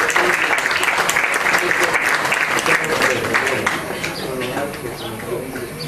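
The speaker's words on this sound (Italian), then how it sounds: "un applauso ve lo fate da soli in questo caso per essere qua" An audience at a medical conference breaks into dense, sustained applause that fills the room and then begins to thin toward the end.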